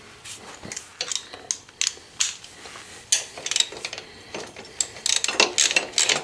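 A ratchet tightens crash bar bolts on a Honda Africa Twin CRF1000L, sounding as bursts of quick clicking strokes with short pauses between, close and fairly quiet.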